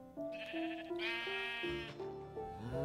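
Several sheep bleat in Minecraft, wavering, nasal calls that overlap in a quick run of four or five, close and clear with no talk over them.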